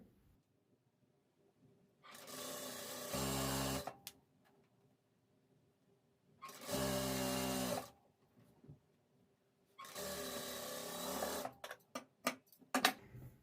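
Sewing machine stitching piping lace onto a blouse sleeve, three separate bursts of fast, loud mechanical whirring separated by quiet pauses, followed by a few short clicks and stops at the end.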